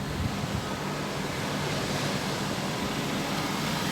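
Sea waves at Puri, heard from a sea-facing hotel balcony, make a steady broad roar of surf mixed with wind noise on the microphone.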